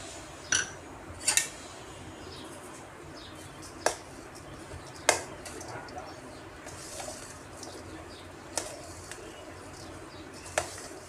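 Spring roll filling gets stirred in a bowl with soy sauce, black pepper, salt and MSG, giving a few sparse, light clinks of spoon against the dish spread over a quiet kitchen background.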